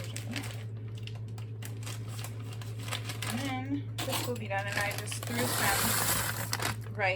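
A plastic bag of peas is opened in a home kitchen, giving brief crinkling and rustling bursts under a person talking, over a steady low electrical hum.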